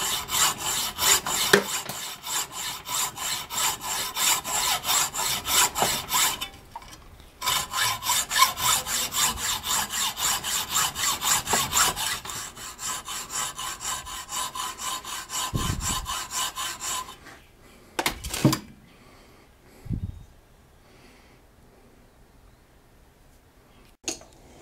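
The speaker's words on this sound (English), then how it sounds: "all we're going to do is take a hacksaw and cut through that shaft." A hand hacksaw cuts through a metal shaft on a bracket clamped in a vise, with long runs of rapid, even rasping strokes broken by short pauses, close and loud, before it stops and a few clunks follow.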